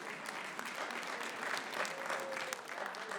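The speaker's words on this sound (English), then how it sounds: "you gave better applause after lunch" Applause from a conference audience at a TEDx event in Chattanooga, fairly quiet and distant, a steady wash of clapping that swells slightly midway and carries on without talk.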